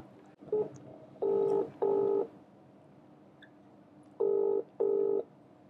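Four steady two-tone phone keypad beeps sound in two pairs as a call is dialed, clear and close, over faint background hum.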